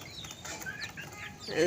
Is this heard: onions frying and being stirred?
no